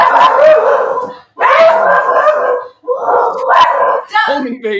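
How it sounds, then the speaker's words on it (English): Several dogs bark loudly and repeatedly in long bursts with yips and whimpers, close by, from a neighbor's house with more dogs barking out back. "The other 3 dogs are out in the back barking, too."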